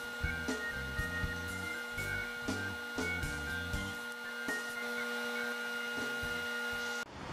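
A spindle sander whirs steadily as small wooden pieces for a Seahawks sign are pressed against it, with repeated rhythmic rasping strokes over a constant motor hum, close up, ending in a brief clunk.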